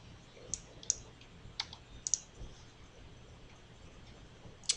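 A computer mouse clicks a handful of times at irregular intervals, sharp and close but quiet, against a faint room hum with no talking.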